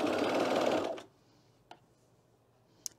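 A serger sewing machine stitches fabric in a loud, fast whirring burst that lasts about a second and then stops, followed by quiet with a couple of faint clicks.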